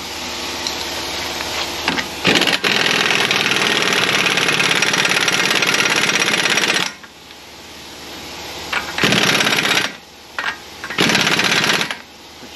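Vehicle suspension bolts are tightened after a ball joint replacement with a loud, close power tool, its rattling hammering bursts running for several seconds and then in shorter bursts separated by brief pauses.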